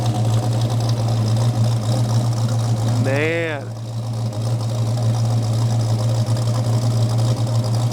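A 1969 Dodge Charger with EFI idles steadily at 850 to 900 RPM, a loud, even low rumble filling the whole stretch while someone talks over it.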